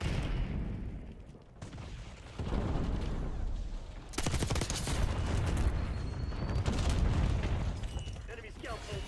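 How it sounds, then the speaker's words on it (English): A grenade blast erupts in the Call of Duty Black Ops 6 video game, a loud broadband boom midway through surrounded by bursts of rough gunfire and battle noise. "Incoming grenade."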